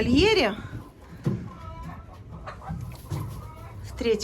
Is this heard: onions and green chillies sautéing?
no